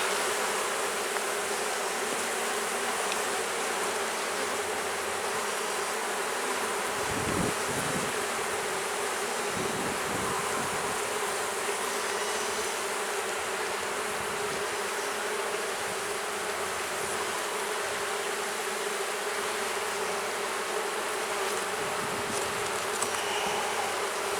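Honey bees in an open hive whose queen is missing keep up a dense, continuous buzz that holds steady up close throughout, with a few brief low bumps and no talking.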